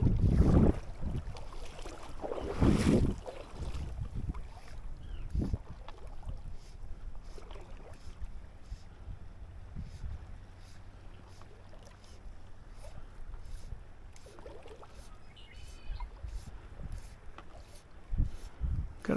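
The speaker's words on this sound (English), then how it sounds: "Here comes wind again." Wind gusts by the Arkansas River tailwater near Pueblo, Colorado, buffeting the microphone in loud bursts near the start, then settling into a quieter rustle with scattered small knocks.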